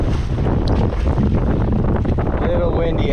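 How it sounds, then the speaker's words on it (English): Wind buffets the microphone on a reservoir during a bass fishing trip, a loud, steady broadband rumble throughout with faint water sounds and a brief reel-like chirp near the end. "Little windy out here"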